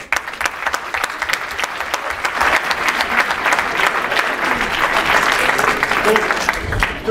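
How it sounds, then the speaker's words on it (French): An audience at a 2022 variety show in Le Pin-en-Mauges, France, breaks into sustained applause, dense clapping that swells and holds for several seconds, with faint voices underneath. "On peut l'applaudir."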